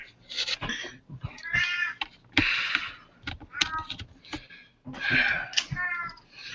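A house cat meows repeatedly during an online video chat, a string of loud, drawn-out cries near the microphone with short pauses between them.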